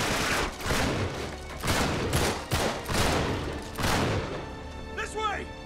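Gunfire in the Uncharted 3 video game rings out as several loud, booming bursts in a ragged rhythm, with voices mixed in and briefly audible near the end.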